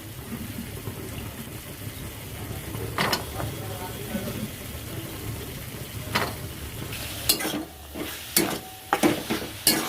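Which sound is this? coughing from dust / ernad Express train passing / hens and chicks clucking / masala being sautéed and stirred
masala being sautéed and stirred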